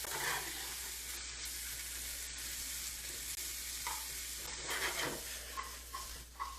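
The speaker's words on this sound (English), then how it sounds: "stirring works just as well." Anchovies sizzling in a hot pan while being stirred for eggs in purgatory: a steady frying hiss with occasional scraping and stirring clatters, close and moderately quiet.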